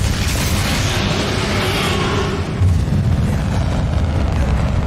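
Bombarda blasting spell bursting during combat against Ranrock in Hogwarts Legacy, a continuous loud booming roar of magical explosions and rumbling effects filling the whole stretch, with a heavier thump partway through.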